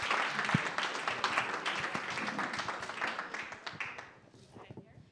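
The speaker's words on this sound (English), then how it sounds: "Another round of applause for this incredible fireside chat." Audience applause following a fireside chat at a UNGA 2024 philanthropy event: a room full of steady clapping that holds for several seconds and then thins out and fades at the end.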